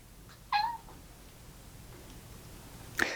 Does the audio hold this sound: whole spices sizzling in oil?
no